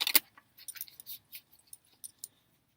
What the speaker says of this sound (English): they're a little more resistance when you're shuffling them to put them back in together